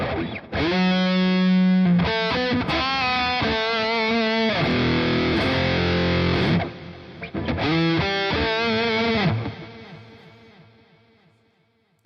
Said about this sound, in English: Bit of reverb.